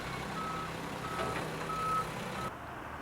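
A reversing garbage truck sounds a string of evenly spaced electronic beeps over a low steady engine rumble, moderately distant and with no speech.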